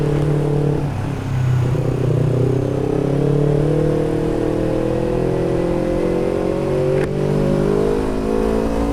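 A motorcycle is ridden fast on the road to Magelang, its engine droning loudly and steadily throughout and rising in pitch as it accelerates, with heavy wind rush over the microphone.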